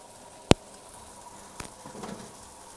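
Pork chops sear in a pan with a faint, steady sizzle. A sharp click sounds near the start, followed by a few soft taps and stirring noises.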